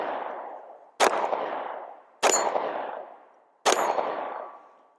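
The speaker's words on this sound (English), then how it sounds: "Take our time and put some rounds on steel." Gunfire aimed at steel targets on an outdoor range with a red dot reflex sight: a sharp shot followed by three more, about a second apart, each loud with a long echoing decay and a faint metallic ring.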